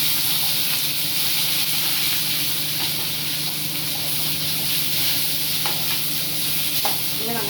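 Green chillies, curry leaves and small onions sauté in a pan, producing a constant loud hissing sizzle with faint stirring scrapes near the end and no speech.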